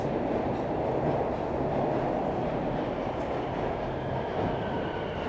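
A Toronto subway train at St Andrew Station rumbles steadily and loudly through the platform with continuous wheel and rail noise, heard alone.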